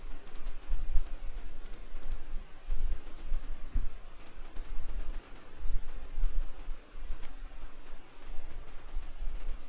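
Steady, fairly close clatter of keys as code is typed on a computer keyboard, continuous uneven tapping over faint room hum with no voices.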